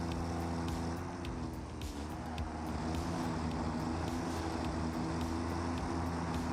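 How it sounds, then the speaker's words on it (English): Fake internal combustion engine noise from an electric vehicle in the game Satisfactory, a steady low rumble that dips briefly and carries on, with occasional faint ticks. "They got the fake engine noise, even a gear shifter on an electric vehicle."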